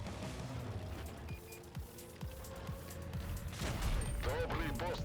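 Muffled tank cannon blasts in World of Tanks Blitz, armor-piercing rounds, go off a few times at moderate volume, with a voice talking over them.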